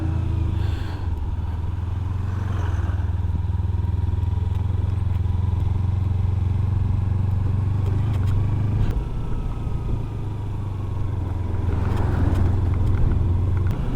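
A vehicle engine on mountain hairpin loops between Sarchu and Tso Kar in Ladakh, a steady low drone and rumble with some road clatter that runs evenly and close the whole time.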